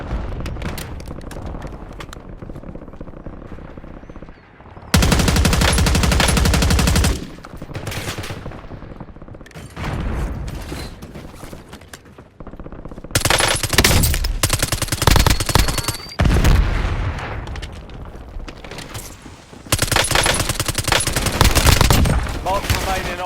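Bursts of rapid automatic gunfire and single shots from the video game Call of Duty: Warzone come in loud clusters separated by quieter stretches, with in-game radio voices calling out between the volleys.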